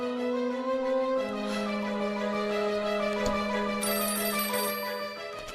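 A telephone rings with a bright electronic ringtone, a steady tonal warble that shifts pitch partway through, clear and moderately loud with no one speaking.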